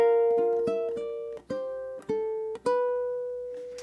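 A ukulele is fingerpicked through the first ending of a catchy A melody, plucked notes ringing over one another in a quick, lilting rhythm, close and clear with no voice.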